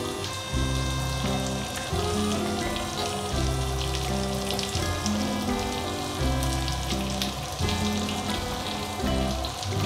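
A breaded schnitzel fries in a pan, a loud, close, continuous sizzle with crackling spits, over a steady low hum and faint musical tones, and no talk.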